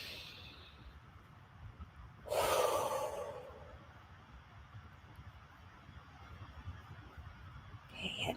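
One deep, audible inhale, with a short exhale after it, taken during a calm EFT tapping session. It is close to the microphone, takes about a second, and otherwise there is quiet room tone with no talking.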